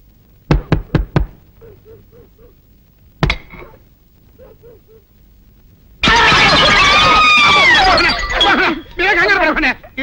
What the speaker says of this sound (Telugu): ఎవరో తలుపులు కొడుతున్నారు